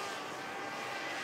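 An old DJI Mavic drone flying at night gives a steady, dense mechanical whir that drones continuously, as if hovering close overhead, with no talk.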